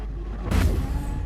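An Aston Martin race car in GT Sport spins out after misjudging its speed and strikes a barrier, giving a single loud, heavy thud of impact that tails off into a rumbling skid.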